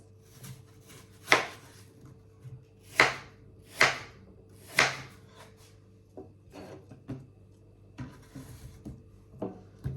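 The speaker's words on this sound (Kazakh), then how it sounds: "Енді алмамызды осылай ұсақтап турап жатырмыз." An apple is diced with a knife on a board: four sharp chops stand out early, followed by a run of softer, quicker cuts and scraping taps at close range.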